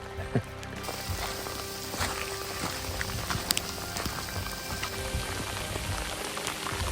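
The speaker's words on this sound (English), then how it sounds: "So I got a little bit of rain today," Steady rain patters close by on a taut tent, with dense tapping drops and a few sharper hits throughout.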